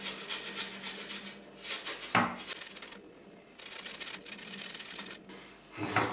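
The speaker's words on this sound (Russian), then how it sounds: "И натрем чеснок на терке. На некрупной терке. Это терка для сыра." Young garlic grated on a fine cheese grater, giving short scraping rubs in bursts with brief pauses, close and fairly loud, with no talking.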